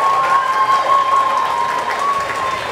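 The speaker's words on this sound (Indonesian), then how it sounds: "Tepuk tangan dong buat mereka." A church congregation applauding steadily and loudly at a Pentecost service, a continuous wash of clapping with a faint tonal hum running underneath.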